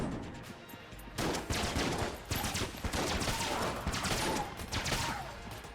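Rapid shotgun blasts and laser rifle fire from the video game Enter the Gungeon, a dense, loud, continuous barrage of overlapping gunshots after a brief quieter opening.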